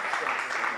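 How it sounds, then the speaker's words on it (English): Conference audience applauding its panelists, a brief burst of dense clapping heard close and steady. "I think they deserve another round of applause."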